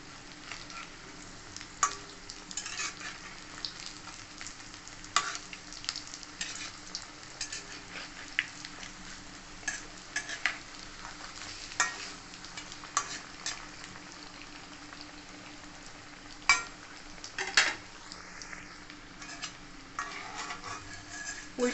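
Chicken cutlets sizzle steadily in hot oil in a pan, a continuous close frying hiss broken by occasional sharp clatters as the pieces are turned over, with no voices.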